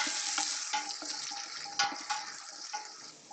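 Shallots sizzle and fry in a pot over a medium flame while a spoon stirs them, giving a steady crackling hiss with a few louder scraping strokes throughout, close and clear with no talking.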